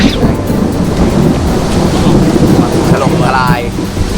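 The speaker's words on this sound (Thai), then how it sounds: "ฝนถล่มทลายตอนนี้" Heavy rain roars steadily throughout with low rumbling like thunder, loud and close, during a storm by the Pa Sak River in Thailand, and a faint voice briefly audible near the end.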